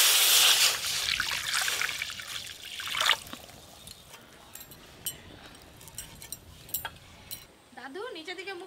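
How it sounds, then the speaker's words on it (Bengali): Water pours and trickles in a kitchen while a spinach and egg dish is cooked, a bright splashing rush at first that fades, followed by scattered clinks of utensils and a brief voice near the end. "জল"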